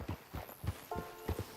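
Horse hooves clip-clopping in Red Dead Redemption 2, a soft, evenly paced series of thuds at a walk, fairly faint, with a brief tonal game sound partway through.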